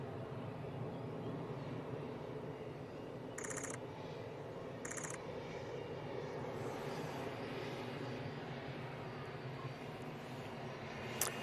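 A distant airliner rumbles steadily at Manchester Airport, TUI or Emirates, a low continuous engine roar under broadband outdoor noise, with two brief faint high beeps in the middle.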